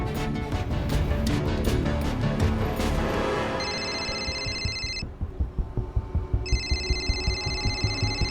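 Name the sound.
mobile phone ringing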